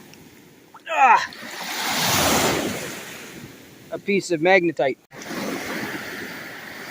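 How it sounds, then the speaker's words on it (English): Heavy waves crash onto the Lake Superior shore at Whitefish Point, a broad surging wash swelling and fading, broken by short bursts of nearby talk and gusty wind. "These waves are pretty intense."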